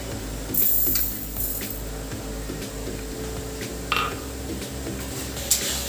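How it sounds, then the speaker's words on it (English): A mixer grinder grinds roasted red lentils with a steady, rough whirring drone that holds for several seconds, with a few brief louder surges. "add this red lentils in a mixer grinder"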